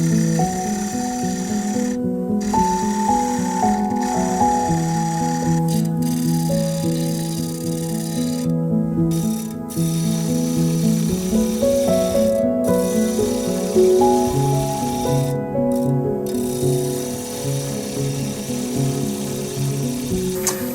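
A woodturning tool cuts a candy stand on a spinning lathe to flatten it, giving a steady whirring hum with a scraping, rattling texture that carries on throughout, pausing only in a few brief gaps.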